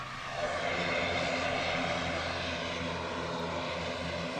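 An ATR 72-600 turboprop airliner departs Manchester Airport for Guernsey, a loud close propeller drone with throbbing low harmonics swelling at the start and holding steady.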